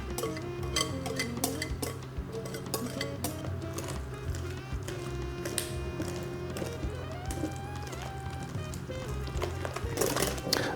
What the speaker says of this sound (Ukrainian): Наші підготовлені жовтки ми перельємо до крем-сиру маскарпоне і ретельно це все перемішаємо до утворення однорідної консистенції.